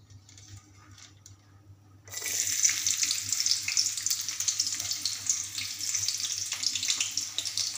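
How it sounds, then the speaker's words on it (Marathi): Finely chopped onion drops into hot oil and bursts into a loud, steady sizzle after a quieter start, close up with no talking. "तर आता मी एक बारीक चिरलेला कांदा सोडते."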